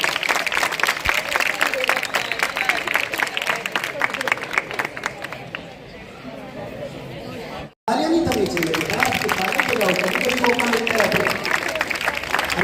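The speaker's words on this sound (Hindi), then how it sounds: "जोरदार तालियां दीजिए।" A crowd at a school event claps loudly and steadily, with a brief drop in the middle before the applause resumes at full strength alongside chatter.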